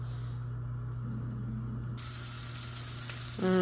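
A butternut squash crusted frittata sears in a pan on the stove, a steady quiet sizzle that jumps to a brighter, louder hiss partway through, with a clink near the end.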